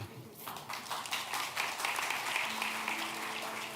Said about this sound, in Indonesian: Kasih tepuk tangan ya.